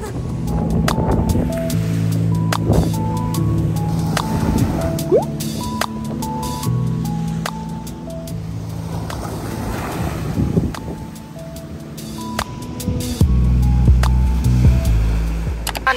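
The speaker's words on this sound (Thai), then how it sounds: "ลม" Steady sea wind and breaking waves at Sangchan beach in Rayong, a loud continuous roar with gusty rushes and occasional faint tones and clicks over sixteen seconds, with no clear talking.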